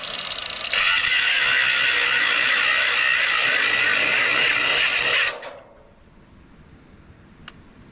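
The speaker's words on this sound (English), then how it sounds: "I'll let my grinder cool off for a second, because let me tell you, she is hot right now." An angle grinder cuts through the metal frame of an old camper trailer in one loud, steady, harsh screech lasting about five seconds, then stops abruptly, leaving quiet room noise and a single faint tick.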